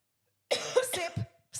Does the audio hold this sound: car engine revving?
no